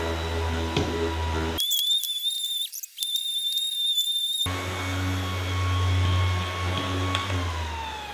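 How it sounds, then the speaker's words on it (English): An electric sander works the veneered edge of a circular table with a steady high whine and grinding hiss, cut by a near-silent gap with a shrill tone before the sanding resumes loud and close. "Spread it first of all to make sure it's all over my sander. Okay, and away we go."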